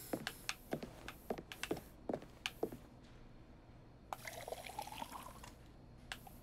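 Water pours in the cooking game Meine Holsteiner Frittenbude, quiet and close, with short splashy bursts and drips early on, then a longer continuous trickling pour before a final drip.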